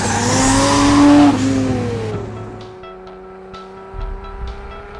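A 1400 hp AMS Alpha 12 Nissan GT-R on the Willow Springs Raceway track roars loudly, its engine pitch climbing and then falling away, followed by quieter engine tones and faint squeaks.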